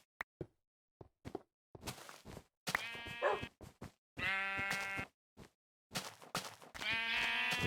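Sheep in a video game bleat several times, short calls early then longer wavering, harmonic bleats, close and clear against silent gaps with a few soft step-like clicks.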